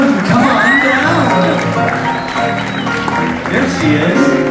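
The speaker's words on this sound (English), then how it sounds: "You're clapping. Keep clapping." Audience applause fills a ballroom in Las Vegas during a cover performance, a steady wash of clapping with a few whoops and cheers mixed in, while a voice talks over it throughout.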